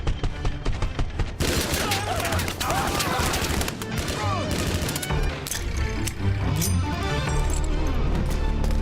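Tommy gun bursts from the film Sinners, loud and dense with rapid automatic fire amid crashes and a busy soundtrack, under a steady wash of music and effects throughout.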